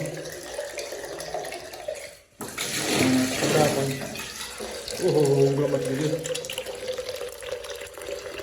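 Water runs steadily from a tap, briefly cut off and then resumed, with a person talking over it.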